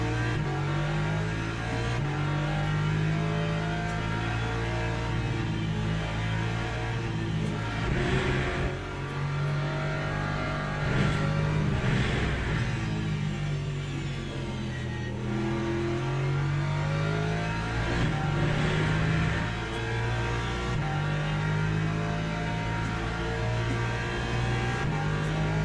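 A BMW race car engine in the iRacing sim roars continuously at high revs, pitch climbing and dropping through gear changes, loud and close throughout.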